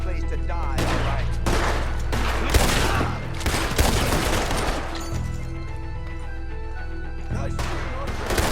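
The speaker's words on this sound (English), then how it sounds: "Nice shooting" Heavy gunfire in a Red Dead Redemption 2 shootout, with loud, close rifle and pistol shots cracking in dense overlapping bursts over rumbling game sound, and voices speaking beneath it.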